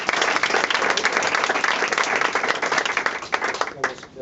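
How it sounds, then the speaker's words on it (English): An audience at a panel discussion breaks into loud, dense applause, many hands clapping together close by in a sustained roar that thins out near the end. "Let's give you a round of applause."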